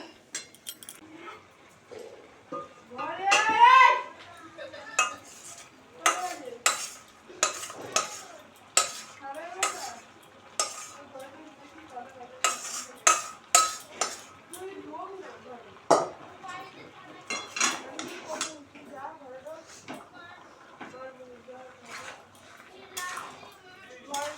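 Chorchori spice masala is scraped and stirred from one kadai into another, intermittent metallic scrapes and clinks of a spoon against the woks, close by, with people talking throughout.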